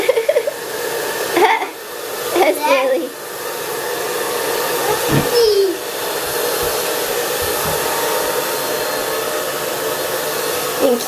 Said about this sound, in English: You might need to blow dry yours where you got your hair wet in the front.